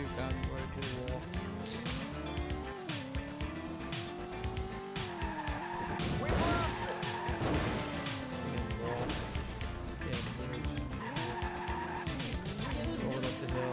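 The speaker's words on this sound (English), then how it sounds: "Head on collision with the cop." Cars in a video game race and skid with engines revving up and down, tires squealing and a loud crash midway, all continuous and busy.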